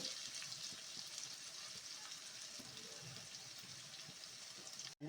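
Eggplant frying in masala in a pan, giving a steady faint sizzle with a hissing, watery texture that runs continuously, then a brief sharp knock near the end.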